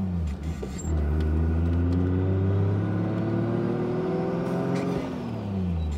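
A Toyota Tacoma pickup with a swapped turbo 2JZ engine idles with a rough, uneven low rumble, the pitch wavering slightly as it runs steadily close by.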